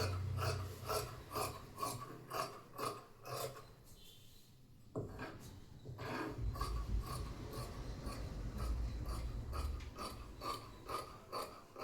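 Scissors cutting frock fabric along a marked circle for a 55-inch full frock: a steady series of crisp, rhythmic snips close by, with one short pause partway through. No talking.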